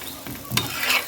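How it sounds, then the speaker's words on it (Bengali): Soft, continuous sizzling of an aloo or tomato paratha frying in a little oil, with a faint scrape of a utensil partway through. "অল্প তেল দিয়ে ভাজা যায়"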